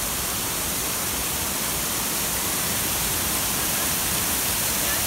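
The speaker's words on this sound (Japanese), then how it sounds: "もう噴水がすごいですね" Water from a park fountain near a hotel in Bulgaria pours and splashes in a steady, loud, unbroken rush that fills the whole clip, with no voices rising above it.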